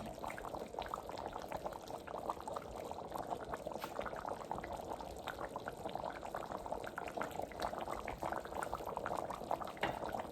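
Curry goat bubbles at a steady rolling boil in a pot, a dense, continuous gurgle and simmer that holds evenly all the way through with no voices.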